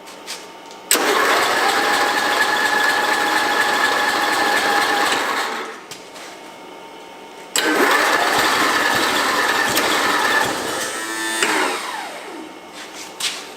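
A Craftsman lawn mower engine fires up and runs loud and steady after a carburetor adjustment, dies down, then starts again and sputters before cutting out.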